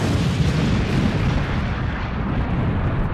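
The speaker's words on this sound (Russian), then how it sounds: "Эти взрывы такие мощные." Powerful explosions in a One Punch Man anime fight between Saitama and Garou roar as a continuous, loud, rumbling barrage that stays dense throughout.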